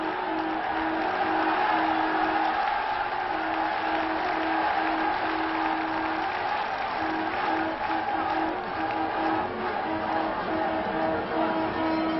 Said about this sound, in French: La foule exulte.